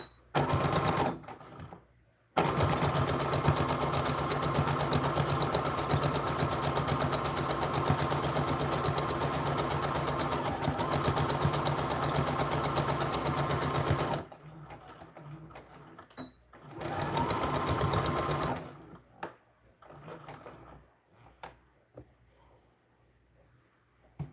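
Sewing machine stitching backward then forward to lock a doll skirt seam, a close, loud, steady mechanical whir that stops briefly, then resumes for a short burst and falls quiet.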